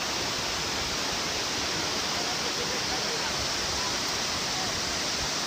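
Loud, steady roar of rushing water from a waterfall close by, a dense unbroken wash of sound with no voices over it.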